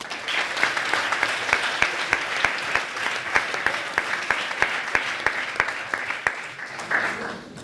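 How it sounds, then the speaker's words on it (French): Audience applause at a student eloquence competition, a room full of clapping with a steady rhythm of sharp, close claps standing out over the crowd, lasting several seconds before tapering. "on peut l'applaudir, s'il vous plaît."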